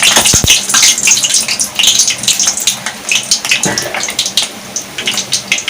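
Gulab jamun balls made from Marie Gold biscuits fry in hot oil in a kadai, a close, bubbling sizzle that surges and fades in uneven pulses, with no one speaking.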